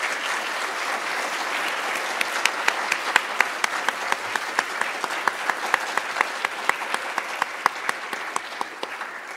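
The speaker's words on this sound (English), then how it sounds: "Go ahead and give your parents at home a round of applause" Applause at an awards ceremony, a dense steady patter of many hands clapping with sharper individual claps standing out, continuing for several seconds.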